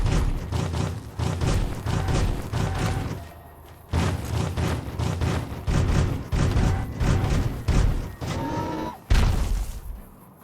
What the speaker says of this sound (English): I'm using this 10mm pistol here, and he's actually holding it with one hand, and he will actually shoot it with one hand.